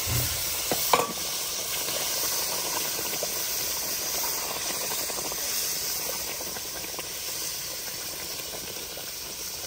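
Cooked mutton tipped into hot masala for a Maharashtrian black mutton curry sizzles and hisses steadily, with a few stirring clatters near the start before the frying settles into a continuous, even crackle.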